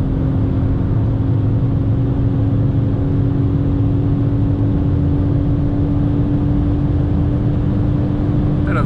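A 2003 Mercedes C240 W203 with its 2.4 engine cruises past 200 km/h after an uphill stretch, a steady loud cabin roar of wind and road noise with a constant droning engine hum and no talking.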